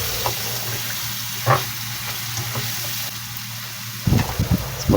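A pan of spices, ground coriander and fennel, simmers in water and oil until the oil separates, giving a steady fizzing sizzle with occasional stirring scrapes and bubbling bursts close by.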